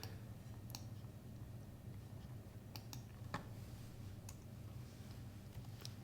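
Faint, sparse clicks of a computer mouse, several isolated taps spread across a quiet room background with a low steady hum.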